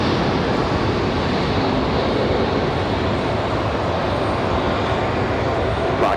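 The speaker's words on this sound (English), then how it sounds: "This is always one of my favorite departures at night." Airliner departing at night from Raleigh-Durham International Airport, a loud, steady broadband jet engine roar filling the whole stretch without a break, close and constant.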